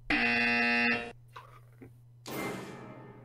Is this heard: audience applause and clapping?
no